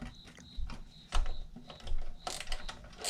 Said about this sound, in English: you're going to want to remove these 12 8mm bolts that hold this pan in place